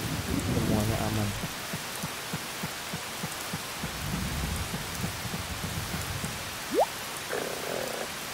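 Steady rain falls in the farming video game Harvest Moon: Save the Homeland, a continuous hiss with low croaking calls mixed in and a brief rising tone near the end.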